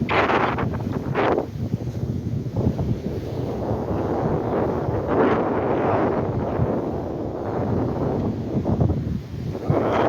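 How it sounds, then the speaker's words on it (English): Strong wind buffets the microphone in a continuous roaring rush with gusty surges, no voices heard. "it's pretty blooming windy"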